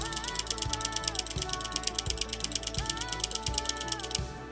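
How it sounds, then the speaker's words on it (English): A camera shutter fires in burst mode while shooting a stop motion asset, a steady rapid rattle of repeated clicks running for several seconds with no talk over it. "let's go ahead and do the shutter burst version as well"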